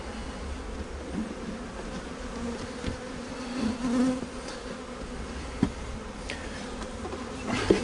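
Many honey bees buzz steadily and densely around a hive, a continuous close hum with occasional louder passes and faint knocks.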